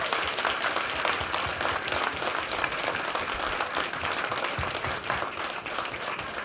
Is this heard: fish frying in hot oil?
no